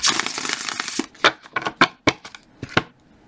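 Tarot cards shuffled in the hands, first a dense riffling burst for about a second, then a series of separate crisp snaps and slaps at irregular intervals, close and fairly loud with no talking.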